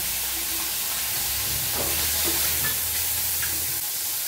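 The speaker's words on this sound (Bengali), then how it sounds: "টকের মাছ অত মুড়মুড়ে করে ভাজবো না" Small mourala fish frying in hot oil in a pan, a continuous dense sizzle with faint stirring clinks, close and steady with no talking.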